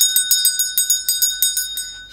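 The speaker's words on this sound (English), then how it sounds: "Ring the notification bell." A notification bell chimes in a quick run of about ten bright, ringing strikes with a steady pulse, loud and close, with no voices over it.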